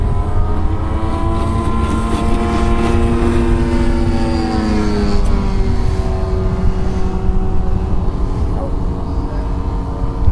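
A radio-controlled fixed-wing airplane with a propeller takes off, its motor a loud, steady buzz close by whose pitch slides and shifts as it climbs away.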